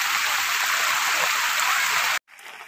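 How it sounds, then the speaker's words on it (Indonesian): Steady heavy rain pours loud and close as an even broadband hiss, then cuts off abruptly near the end, leaving a quieter rushing background. "Nih teman-teman, cuacanya hujan"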